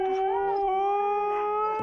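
Siberian Huskies howling in winter, a sustained, close, loud howl holding a steady pitch with rich harmonics, with a slight waver near the start.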